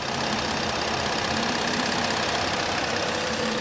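A 2016 Ford Explorer Police Interceptor's 3.7-litre engine idles with a steady, even rumble, close by and continuous with no other sounds.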